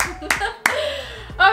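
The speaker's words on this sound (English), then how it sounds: "So can we get a round of applause for clean," A small group clapping in a home bedroom, with short bursts of applause separated by brief pauses, close and fairly loud.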